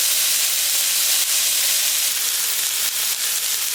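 Thin choice ribeye steaks, dusted with Chicago steak seasoning and recently flipped, sizzle steadily on a Camp Chef flat top griddle, a dense close crackle and hiss running unbroken throughout.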